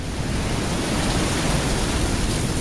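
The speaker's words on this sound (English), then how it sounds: "Check out this spring water coming out of the rocks." Spring water pours out of rocks on a Kauai beach in a dense, steady, close rushing splash that holds at an even level throughout.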